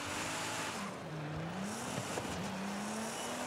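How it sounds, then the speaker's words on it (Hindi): A Nissan GT-R in Forza Horizon 5 drives with a steady engine drone whose pitch rises and falls with throttle changes, loud and continuous under game ambience, with no talking. "तो हम लोग इसको ना ड्राइव कर लेते हैं सीधा अभी, निशान GTR भाई फाइनली"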